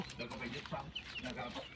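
Hens at feeding time on a country farm keep up a steady, overlapping stream of soft clucks and chirpy calls, fairly faint and close together, with a little human voice mixed in.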